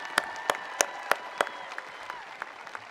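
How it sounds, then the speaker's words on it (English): Applause at a high school graduation ceremony for the 2025 graduates, several sharp claps standing out at the start over a crowd clapping that thins and fades toward the end. "Let's give another round of applause for our amazing 2025 graduates"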